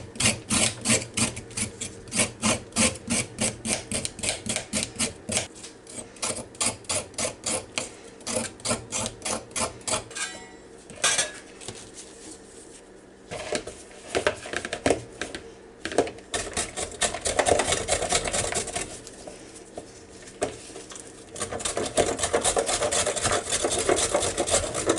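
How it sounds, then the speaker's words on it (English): Rhythmic rasping strokes of carrots being scraped and shredded for a salad, a fast regular series at first, then breaking into looser, denser bursts of grating, loud and close with no voices. "you do need to scrape your carrots"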